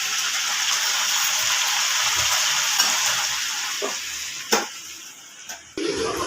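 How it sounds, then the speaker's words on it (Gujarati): Gunda sizzles steadily in hot oil during tempering (vaghar), a continuous close hiss with a few clinks and stirring knocks toward the end. "વઘાર લીધો છે ગુંદાનો"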